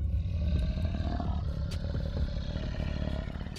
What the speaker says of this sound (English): Giant lion.